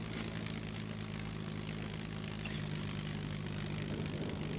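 Steady, continuous propeller plane engine droning at a low idle-like pitch as the aircraft comes in to land in the survival game Scum, constant and fairly loud with no talk.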